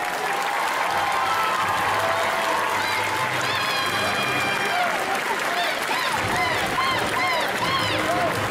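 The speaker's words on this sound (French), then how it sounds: "Et on les applaudit bien fort" Applause from the audience at a cosplay contest on a festival stage, dense steady clapping filling the whole stretch, with an announcer's amplified voice talking over it and brief whoops rising from the crowd.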